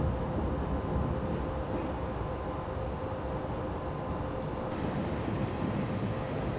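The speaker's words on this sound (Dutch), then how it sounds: "We gaan in ieder geval rustig afremmen nu." BR111 electric locomotive slowing under braking in a Train Simulator 2016 run toward Golling, heard as a steady, fairly loud rumble of rolling wheels with a faint constant tone, continuous and without pauses.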